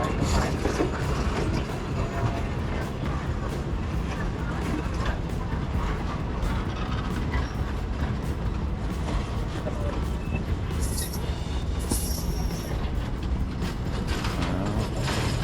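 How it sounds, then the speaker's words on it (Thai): A long tourist train rolls past at the Bridge on the River Kwai in Kanchanaburi, a steady continuous rumble with rhythmic clacking of wheels on rail, loud and close throughout, with people talking nearby. "โอ้ยาวมาก ยาวมาก เป็นขบวนท่องเที่ยวนั่นเอง"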